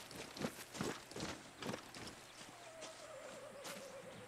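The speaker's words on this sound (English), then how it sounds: "I heard a horse." Horse in the video game Far Cry 6 snorting and whinnying with a few clopping hoof steps, a short neigh rising near the end, at moderate distance.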